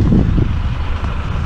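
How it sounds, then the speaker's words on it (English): Another truck drives out past a front-lift rubbish truck at a country ranch: a brief, loud, low engine rumble close by, with no speech over it. "Oh, another truck coming out."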